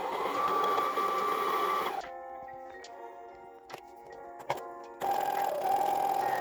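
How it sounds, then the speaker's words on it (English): A sewing machine stitches the side seam and shoulder seam of a holiday party dress in two fast, steady buzzing runs. Between them comes a quieter stretch of fabric handling and light clicks. "then I can proceed to close up my side seam and my shoulder seam"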